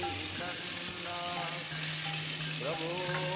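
Chopped tomatoes fry with whole cumin, cardamom, cloves, cinnamon and dried chilli in a pan, a dense continuous sizzle with faint scraping of a stirring spoon, close and steady, no voices.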